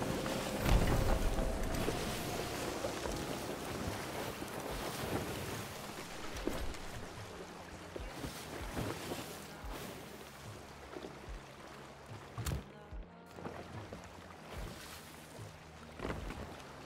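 A sailing ship cuts through ocean waves in a pirate-themed game while being chased by brigs, giving a steady broadband wash of water and wind noise with occasional thumps and creaks throughout.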